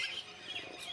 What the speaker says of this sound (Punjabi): ਸਵੇਰੇ ਸਵੇਰੇ ਪੰਛੀਆਂ ਦੀ ਬਹੁਤ ਜ਼ਿਆਦਾ ਆਵਾਜ਼ ਸੁਣਨ ਮਿਲਦੀ ਹੈ